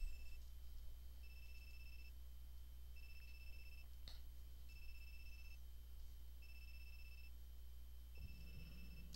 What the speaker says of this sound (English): A cell phone!